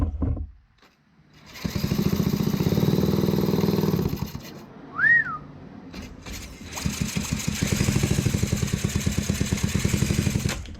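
A Suzuki LT80 ATV engine is cranked over in loud sustained bursts of mechanical churning, with a brief whining chirp between attempts before another long rhythmic cranking run.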